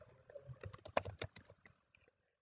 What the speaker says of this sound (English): you can type your answer right here